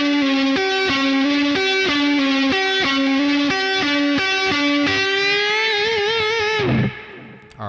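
Heavily distorted electric guitar plays a repeating picked phrase from a guitar solo, steady downstroke and upstroke notes followed by a long sliding bend that drops away near the end, loud and alone.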